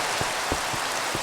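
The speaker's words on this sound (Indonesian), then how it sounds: "Hujannya ngeprank. hujan lagi lo." Steady rain in the Minecraft video game, a dense broadband hiss with a few soft low thumps of drops landing, continuous and fairly loud throughout, with no voices.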